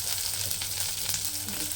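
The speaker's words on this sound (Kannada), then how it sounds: "ಅದನ್ನು ಒಗ್ಗರಣೆ ಹಾಕ್ತಾ ಇದ್ದೀನಿ." Chopped onions fry in hot oil with mustard seeds and curry leaves for a tempering, giving a steady close sizzle and crackle with light stirring.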